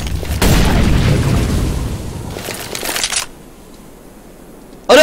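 An incendiary grenade is thrown in Counter-Strike: Global Offensive co-op, with a loud, close burst and roaring whoosh of fire that gradually fades. Sharp bangs follow, then a quieter stretch before a sudden loud hit at the very end.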